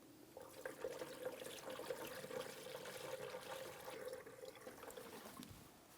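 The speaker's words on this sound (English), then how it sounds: "Start adding coolant." Coolant pours steadily into the coolant reservoir of a 2007-2014 GMC Sierra 2500 HD, a faint, continuous liquid gurgle and trickle lasting several seconds with no talking.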